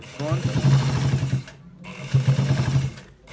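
A sewing machine runs in two bursts while the front pocket of a designer button shirt is stitched, each burst about a second and a half long, with a voice talking over the whirring.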